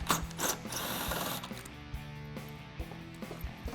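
A ratchet loosens bolts holding a car headlight, with soft clicking and a few sharp metallic knocks heard close up at a low level.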